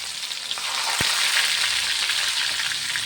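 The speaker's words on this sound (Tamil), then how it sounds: "கடுகு பொரியும் போதே வந்து நான் பூண்டு போட்டுக்கிட்டேங்க" Mustard seeds splutter in hot oil as garlic goes in, giving a loud, dense, continuous sizzle with crackling pops and one sharp knock near the start, no voices.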